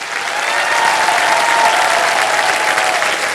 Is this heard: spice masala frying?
no